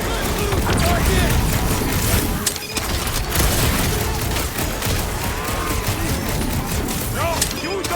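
Rapid gunfire rattles through a fight in the Guardians of the Galaxy video game, a dense, loud fusillade of shots and impacts that barely lets up, with characters shouting over the noise.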